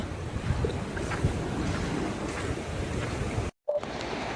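Sea waves at Alang beach under dark rain clouds, a steady, fairly faint rushing wash mixed with wind noise, briefly cut to silence near the end.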